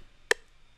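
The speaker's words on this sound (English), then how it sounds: "We're starting out with a clap." Two crisp drum-machine clap hits from an FL Studio sample land about half a second apart, sharp and dry over near silence.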